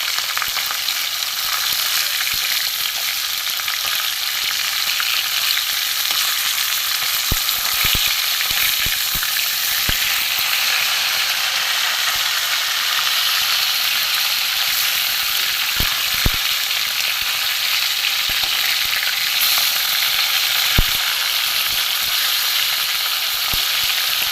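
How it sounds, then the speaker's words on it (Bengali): Pieces of rohu fish fry in hot oil with a loud, continuous bubbling sizzle that stays close and even, broken by a few sharp crackles and pops, with no talking. "জ্যান্ত পোনা মাছ ভাজা হতে থাক"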